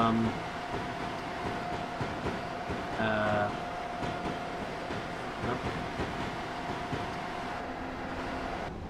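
A train in the Train Simulator 2017 video game rolls along with a steady engine rumble and track noise, with a brief horn-like tone around the middle and someone talking quietly over it.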